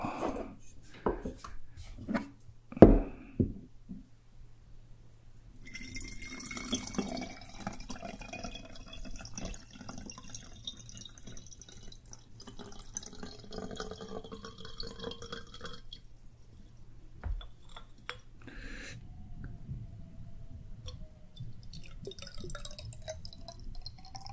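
Water sloshes and drips inside a ceramic sake bottle (tokkuri), soft gurgles and trickles with a few sharp clinks early on, quiet and close in an otherwise still room.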